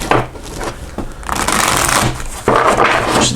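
A large tarot deck riffle-shuffled up close: repeated rapid fluttering card bursts, the longest in the middle and a final sharp run near the end, with no talk over it.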